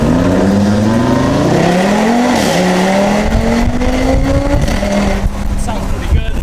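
Audi RS3 rally car on a rally stage, its engine climbing steadily in pitch as it accelerates, dipping briefly at a shift before rising again, loud and close with road and tire noise underneath.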